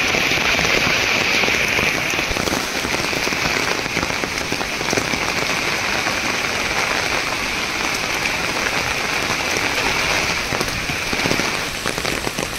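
A downpour drums on the jungle canopy and ground, a thick, unbroken wash of raindrops holding steady and close for the whole stretch, with no one speaking.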